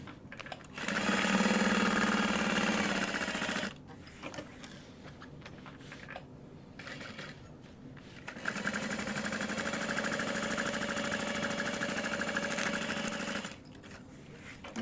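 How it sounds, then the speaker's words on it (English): A sewing machine bastes a seam on a nylon tote bag, its motor whirring in two long steady runs of stitching, with a quieter pause in between, close and alone. "The other thing I'm doing is I'm kind of basting this at 1/4 of an inch-ish"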